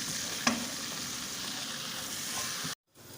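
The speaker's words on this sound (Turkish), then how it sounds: "Şimdi de irmiğimizi ekliyoruz. Ve bunu iyice kavuruyoruz." Semolina roasts in a pan for walnut semolina halva, giving a steady dry hiss and sizzle with a sharp spoon tap early on, then a sudden cut to near silence near the end.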